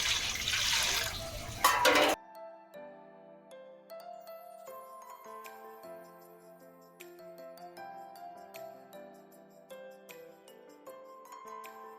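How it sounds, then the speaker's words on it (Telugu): Water pours noisily into a pot for rice-flour batter for about two seconds, close and loud, then stops and gives way to soft background music. "ఇప్పుడు దీనిలో వచ్చేసి మనం ఇంకా 10 గ్లాసులు వాటర్ పోసుకుందాం"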